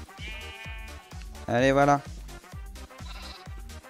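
Minecraft sheep bleating in one loud, wavering bleat at the centre, set among repetitive blocky game sounds, with someone speaking briefly in French.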